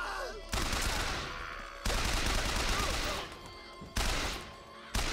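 Gunfire in the video game Bioshock Infinite comes in four loud, sudden bursts of rapid shots, each starting abruptly and trailing off, with brief gaps between them.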